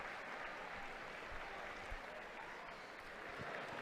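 Pilgrims and faithful applaud the Pope's arrival in the Paul VI Hall at a Wednesday general audience, a steady, faint wash of distant crowd clapping filling the large hall.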